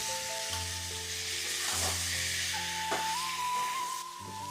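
Fried rohu fish pieces go into a pan of ground chili and cumin paste with green chilies, giving a soft, continuous sizzle under tonal background music.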